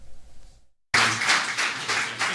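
Loud applause with many hands clapping at a Hungarian Jobbik party celebration, bursting in suddenly after a brief near-silence and continuing steadily.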